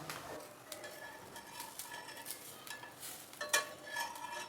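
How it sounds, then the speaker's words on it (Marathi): Thin ghavan batter made from rice flour sizzles and crackles as it roasts on a hot pan, a steady close frying hiss with light clicks and one sharp clatter near the end, no talking. "दोन ते तीन मिनिट आपण भाजून घेऊया या साईडला"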